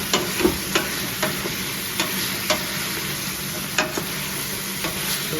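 Eggplant and green onion sizzle and crackle in a hot pan, with regular scraping taps of a utensil stirring them, close and steady.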